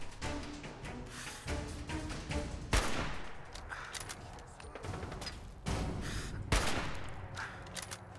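Gunfire in the video game Fallout 4: several sharp, loud shot bursts at irregular intervals, each followed by a short decay, over a low background of game ambience with no talking.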